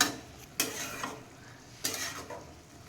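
Methi sabji stirred in a cooking pan, a few sharp spatula scrapes and knocks against the metal over a faint low sizzle, close and quiet.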